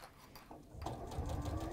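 A sewing machine stitches through a turned Rondelle bag, a soft close whirring that picks up and runs steadily after a quiet start.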